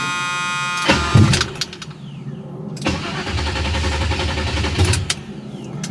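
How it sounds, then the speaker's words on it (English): A 1978 Chevrolet Malibu Classic engine cranks and catches, a brief rev surging, then settles into a steady, slightly uneven idle close by, with a second blip of throttle near the end; no one speaks. "right now it's firing up and it's running like it's supposed to"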